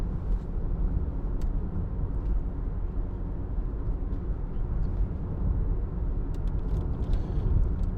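A 2016 Range Rover Evoque 2.0 TD4 diesel automatic with four-wheel drive on a test drive, heard as a steady low engine and road rumble from inside the cabin, continuous and moderately loud with no talking.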